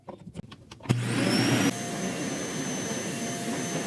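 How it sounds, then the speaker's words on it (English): A Bissell canister carpet vacuum cleaner switches on with a thump, then runs as a loud, steady whining roar whose pitch shifts slightly after a moment. "This is the Bissell Canister Carpet Vacuum."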